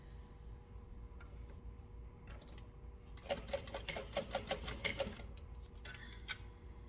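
Sewing machine basting square rings closed in fabric, a quick burst of rapid ticking stitches after a quiet start, close and fairly soft, then stopping.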